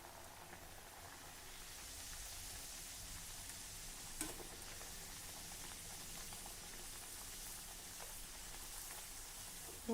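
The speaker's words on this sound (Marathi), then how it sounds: "असाच पुरीसारखा आपण हा वडा तळून घेऊया" Bhardyache vada, a coarse-ground lentil fritter, deep-frying in hot oil, giving a steady soft crackling hiss that runs evenly throughout with one brief louder pop partway, no voices.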